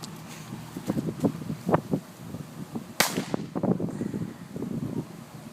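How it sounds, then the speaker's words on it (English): A small firecracker goes off with a single sharp crack partway through, amid scuffling and movement noise with no clear talk. "So we got a much smaller firecracker."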